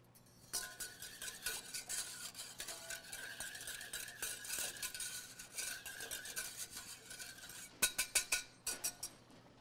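A pastry chef beats a mixture with a whisk in a bowl, giving steady rapid clinking strokes throughout. Near the end the strokes turn into a few louder, sharper taps against the rim.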